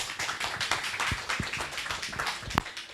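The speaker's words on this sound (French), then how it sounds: "Les applaudissements avant d'avoir parlé, je ne connaissais pas" A small audience at an evening science café talk claps, producing a scattered patter of individual hand claps at moderate distance with a few sharper nearby slaps, and no voices.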